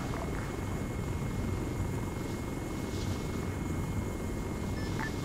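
Military aircraft in a combat video game, a steady rumbling engine drone that fills the whole stretch at moderate level, with faint crackles over the top.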